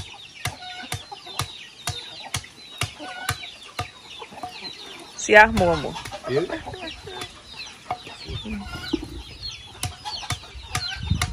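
Chickens on a rural farm cluck in short repeated bursts, close and clear, with a sudden louder flurry of squawking partway through and people talking quietly in the background.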